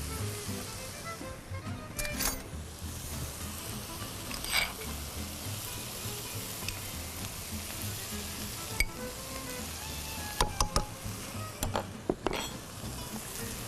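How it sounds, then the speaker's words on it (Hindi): Butter and maida flour roast in a pan for chicken corn soup, giving a soft steady sizzle with occasional clinks and scrapes of a utensil stirring, fairly quiet and close. "ये आया मक्खन और साथ ही मैं इसमें डाल रही हूँ मैदा। इसको हम भूनेंगे।"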